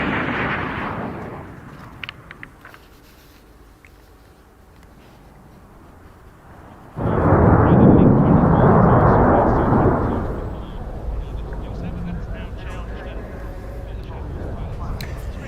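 A Polish Air Force MiG-29 flies a display at an airshow, its jet roar swelling from a distant rumble to a loud, broad blast and then fading, while someone commentates over it.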